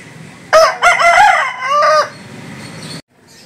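A rooster at a Sunday poultry market in Nellore crows loudly and close, one long strained crow with a brief cluck, then quiet market background after it ends.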